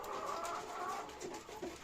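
Soft, quiet clucking and chirping from quail and chickens nearby, a faint continuous chatter with no voices.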